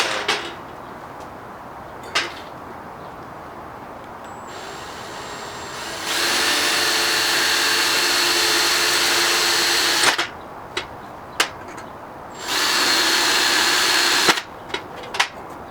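Cordless drill whirring in two sustained bursts while working on homemade go-kart bumper brackets, separated by sharp clicks and taps of handling, fairly close and loud with no talking.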